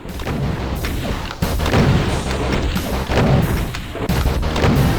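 Cyberdemon rockets explode in a Doom II game level, several heavy booms landing in quick succession with loud, crunching blasts and brief gaps between them.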